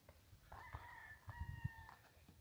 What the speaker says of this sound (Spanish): Las aves se oyen por ahí